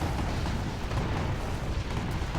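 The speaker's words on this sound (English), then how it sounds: "Being welcomed by Marakar by a bunch of Inferno cannons" Inferno cannons in the Rise of the Reds real-time strategy game pound away in a dense, continuous barrage of overlapping booms and rumbling explosions that stay loud throughout.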